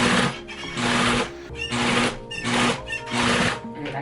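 A sewing machine stitches a leather clutch purse seam in repeated bursts, about four runs of close, loud mechanical whirring and needle clatter separated by brief pauses, with no talking.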